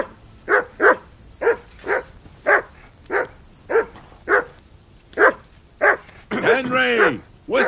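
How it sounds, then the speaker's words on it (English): A dog in Kingdom Come Deliverance II barks in a steady run of about a dozen sharp, evenly spaced barks, close and clear, ending in a longer whining, yelping cry. "Call off that damn dog before he wolfs down the last of our mates."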